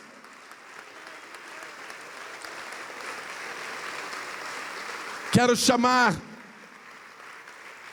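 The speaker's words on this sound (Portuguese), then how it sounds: "Vamos aplaudir mais ao nome de Jesus." A church congregation claps steadily in a continuous wash of applause, while a voice briefly speaks over it near the end.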